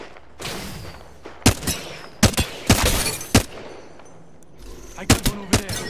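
Gunfire in Apex Legends on Kings Canyon: several sharp, loud shots in short bursts, with pauses between them and a busy game backdrop underneath.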